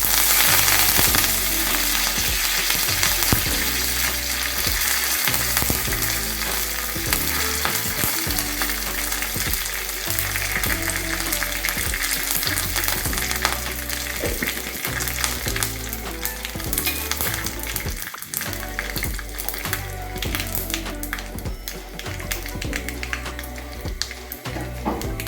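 Mustard seeds and curry leaves fry in hot oil for fish pickle, a loud, continuous crackling sizzle with dense popping that carries on steadily throughout.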